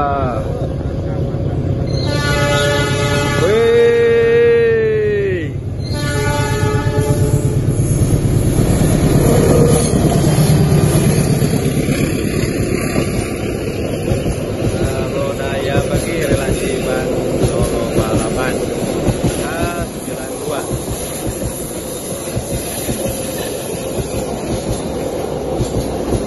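A CC206 diesel locomotive sounds a long horn signal 35 while passing on the Cikadu Cirahong bridge, the horn blaring loudly near the start, followed by a steady rumble of rail wagons and clattering wheels.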